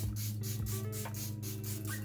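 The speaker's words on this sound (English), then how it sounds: "I'm just gonna go ahead and set my makeup with my favorite setting spray ever" Physicians Formula setting spray misted onto a face, a series of short, close pumped hisses in quick rhythm over a low background hum.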